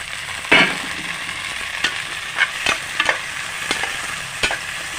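Cut bitter gourd pieces fry with already browned onions in a pan, giving a soft, continuous close sizzle broken by several sharp spatula scrapes and clicks spaced irregularly through it.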